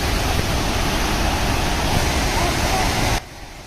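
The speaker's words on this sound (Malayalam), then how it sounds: "വാട്ടർഫോൾസിൻ്റെ സൗണ്ട് നമുക്ക് ഇവിടെ നിന്ന് തന്നെ നല്ല രീതിയിൽ വെള്ളത്തിൻ്റെ ഒരു സൗണ്ട്" Roaring water from a hidden waterfall in Idukki, a steady, loud broadband rush heard nearby that continues unbroken before cutting to a quieter hush near the end.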